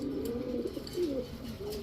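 A Giribaz pigeon with deep blue eyes coos softly in low, throaty rolling phrases, fairly faint against a light background hum.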